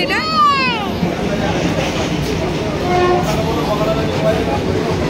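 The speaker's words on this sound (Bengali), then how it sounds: "তুমি দেখেছো ট্রেন?" A train at Kansapara railway station sounds a short descending horn blast at the start, followed by a steady, loud rolling rumble that fills the rest of the clip.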